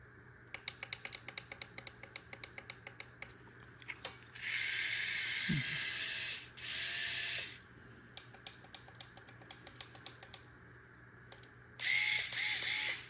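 A tiny 1/43 WHOOSH RC drift car runs in short bursts of high, hissing motor whir, separated by rapid light clicking from the controls, all fairly quiet and close.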